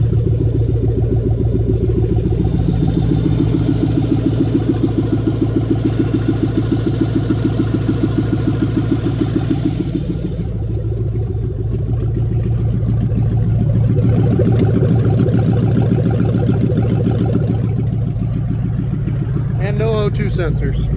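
A Dodge Dakota with a swapped-in Magnum engine, run without coolant, idles steadily after starting, a loud, continuous low rumble with a brief dip near the middle and a short whine toward the end.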